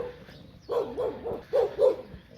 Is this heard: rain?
no